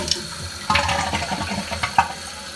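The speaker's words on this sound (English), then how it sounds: "we are going to test the flush." Water rushes through a toilet just repaired for a stuck, hard flush, with soft sloshing and a few gurgling pops. Close and fairly quiet, lasting a few seconds.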